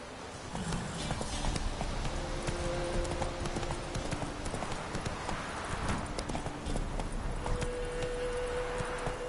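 Hooves of Roach, the horse in The Witcher 3, clip-clop in a steady walking rhythm over game ambience, with faint tonal background music and no clear speech.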